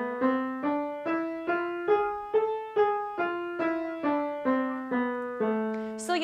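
An A harmonic minor scale climbs note by note on a sustained, organ-like keyboard tone, about a dozen evenly spaced notes, clear and solo.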